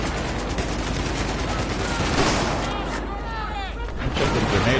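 Gunfire in Battlefield 4 during an indoor firefight, a continuous rattle of rapid shots and bursts filling the whole stretch, with a player's voice talking over it.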